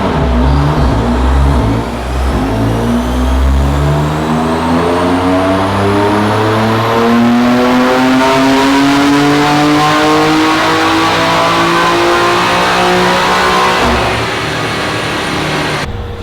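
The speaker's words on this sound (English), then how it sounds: "let's get to some dyno hits. This baseline dyno pulls." BMW M2 Competition on a dyno during a baseline pull, its engine revving steadily upward in one long, loud sweep over about fourteen seconds, with a clear rising engine tone and a brief drop near the end.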